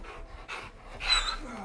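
A puppy pants in short, quick breaths, close and fairly quiet, in a few rhythmic bursts.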